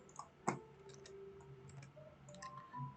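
Typing on a computer keyboard while writing Arduino Uno code for a temperature sensor: quiet, irregular clicks and taps at close range, a sharper keystroke near the start, over faint room hiss.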